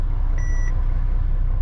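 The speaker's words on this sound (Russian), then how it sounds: "вон, слышите, пикает, это идет прокачка" A single short electronic beep from a Mercedes Actros 1844 truck's automatic gearbox during bleeding sounds briefly over a continuous low engine rumble.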